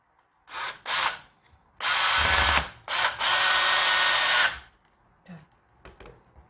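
A more powerful power screwdriver drives a screw in several bursts, short spins and then longer sustained drives, whirring loud and close with brief pauses between.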